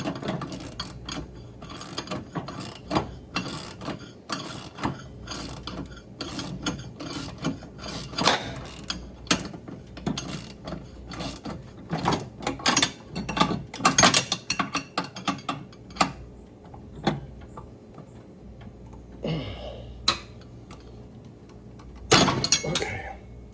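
A ratchet clicks in rapid bursts while tightening a nut on the mower deck of a John Deere Z325E, loud and close, with uneven strokes, brief pauses and a few harder metallic knocks.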